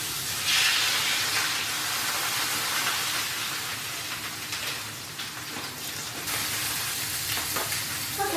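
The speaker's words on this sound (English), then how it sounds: "skillet is heated up. So I'm gonna put the corn on there." Corn sizzles loudly and continuously in an oiled hot skillet, giving a dense, close, hissing fry with no talk over it.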